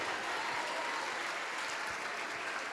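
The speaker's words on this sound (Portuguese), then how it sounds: "Isso, aplaude." A church congregation applauds in a steady, dense wash of clapping that fills the whole stretch at an even level, with no voices standing out.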